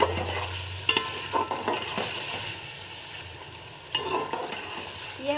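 Mutton pulao stirred in a pot, with scraping, sloshing strokes of a spoon in bursts over a low frying sizzle, close and fairly quiet.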